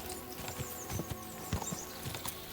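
Hooves of a ridden horse in Kingdom Come: Deliverance II clip-clop in a steady uneven rhythm along a road, close and moderately loud with a faint background bed.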